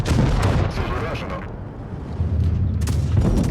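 A deep tank cannon boom rolls out in World of Tanks Blitz, followed by a rumbling roar and a second heavy blast near the end.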